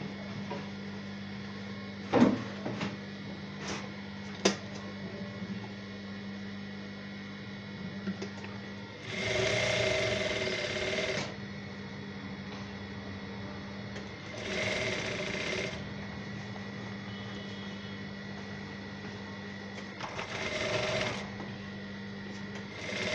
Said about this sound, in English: Just going to sew from this edge to this down part of the crotch.